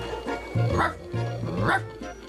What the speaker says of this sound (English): Does Aibo bark? Yes.